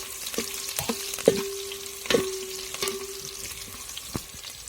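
Cumin and mustard seeds fry in hot oil for a village-style masale bhaat, with a steady sizzle and scattered sharp pops and crackles from close by, plus a faint constant hum.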